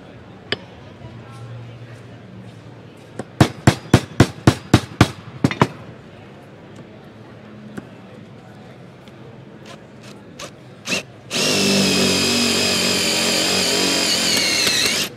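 A drill fitted with a Bad Dog carbaloid-tipped bit bores into steel, coming in as a loud, steady whine over the last few seconds, after a run of sharp clicks and taps.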